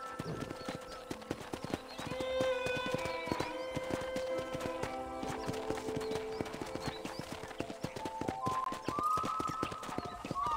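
Horse hooves clip-clop steadily in Red Dead Redemption: Undead Nightmare over a bed of layered game music, with a brief whinny-like tone; the steps continue evenly throughout.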